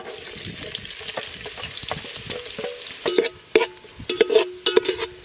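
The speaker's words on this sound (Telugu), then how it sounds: "ఉల్లిపాయనే సన్నగా కోసుకున్నాం, ఏగనిచ్చుకుందాం" Thinly sliced onions frying in a pan, a soft sizzle broken by clattering stirring and scraping, with a few louder knocks toward the end.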